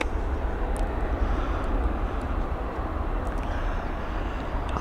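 Airliner coming in low to land on runway 28R at Dublin Airport, a steady, loud, broad jet roar with no clear rise or fade across the few seconds, no talking.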